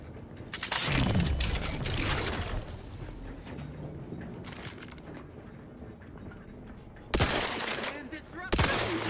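Gunfire in The Outer Worlds 2 shooter game, a loud burst of rapid shots at first, then scattered cracks and mechanical clatter, with sharp single shots returning near the end; someone speaks briefly.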